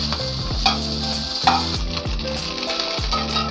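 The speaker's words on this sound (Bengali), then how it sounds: "এখন মাথাডারে আলাদা করে মাছটা কিন্তু আর একটু ভেজে" Taki fish fries in hot oil in a pan, a continuous close sizzle broken by a few soft stirring scrapes and clinks at regular intervals.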